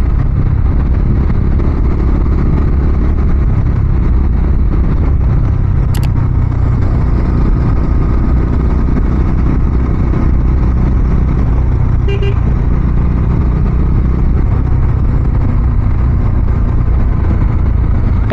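A motorcycle rides along the road from Mumbai to Konkan, its engine a loud, continuous drone blended with wind rush, broken only by a couple of brief sharp clicks.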